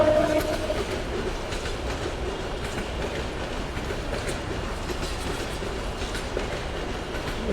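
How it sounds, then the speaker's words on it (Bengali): The Godabhanga train rolls past on the tracks close by, a loud continuous rumble with rhythmic clickety-clack of wheels over rail joints throughout. "গদাভাঙ্গা ট্রেন"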